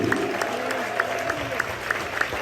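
A church congregation applauding at a 50th-anniversary Golden Jubilee service, a steady wash of clapping and crowd noise throughout, with brief voices in the mix.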